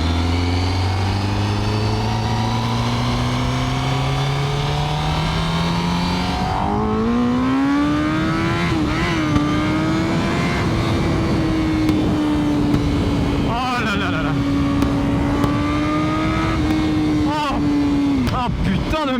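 A Honda CBR1000RR-R engine revs high and climbs steadily in pitch through the gears, loud and close, with brief dips at each shift and a constant roar throughout.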